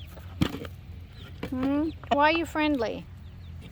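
A rooster raised to be friendly calls in short clucking bursts, several drawn-out rising cries close by, mixed with a voice speaking briefly.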